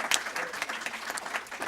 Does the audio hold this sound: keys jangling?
no